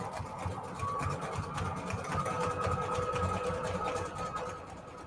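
A sewing machine stitching through a scrap paper booklet with a mini folder file, running as a steady, continuous mechanical whir for the whole stretch, close and moderately loud, with no talk.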